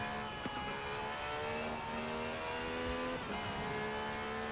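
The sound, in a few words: 1,000 horsepower race car engine revving, video game Forza Horizon 4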